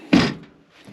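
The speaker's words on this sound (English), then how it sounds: "With a door that you go out to the swim platform." A door to the swim platform on a 1980 Marine Trader Europa 36 boat closes with a single solid thunk, followed by a brief fading tail and quiet.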